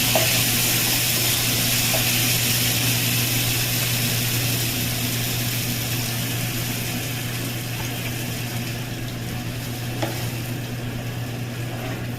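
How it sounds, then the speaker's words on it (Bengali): Water is poured into hot fried spice paste in a pan for a jackfruit kofta curry, giving a loud, steady sizzle and bubbling hiss that fades slightly over time, with no talking. "মশলাটাকে তেল ছেড়ে দিয়েছে। এবার আমি জল দিয়ে দেবো,"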